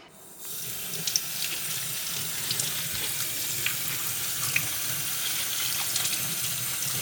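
Tap water runs steadily into a kitchen sink while a cauliflower with leaves and stem removed is rinsed, a soft continuous splashing with small irregular drips and clatters.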